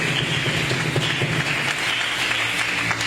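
A church congregation claps steadily for the Lord during a worship service, a dense, continuous wash of applause filling the room at even loudness throughout, with no voice standing out.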